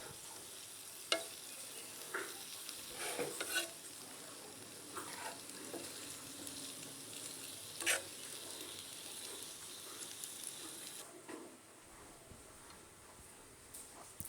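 Homemade hair oil heating in a pan on a low-medium gas flame, faint steady sizzle with occasional soft clinks and scrapes of stirring, quiet and close.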